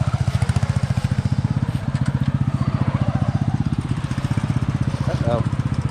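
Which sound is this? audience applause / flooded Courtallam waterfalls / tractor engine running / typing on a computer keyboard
tractor engine running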